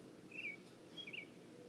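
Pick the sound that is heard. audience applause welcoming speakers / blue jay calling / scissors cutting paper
blue jay calling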